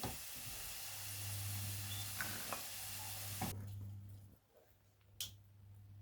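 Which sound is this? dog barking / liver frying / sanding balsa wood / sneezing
liver frying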